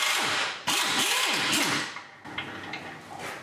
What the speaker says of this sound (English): there's an 18 millimeter bolt or nut on the top that the bolt goes into, so I gotta get a wrench on that